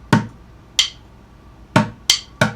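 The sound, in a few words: bucket drum rhythm, sticks clicked together then drum hit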